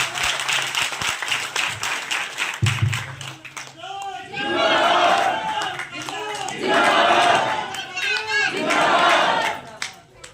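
Crowd at an outdoor village political rally in support of a candidate, applauding and cheering in loud surges after brief talk, with clapping swelling in waves and a raised shout among the clatter.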